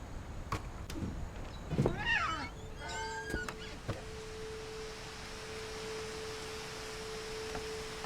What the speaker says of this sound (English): Why do I hear the cat?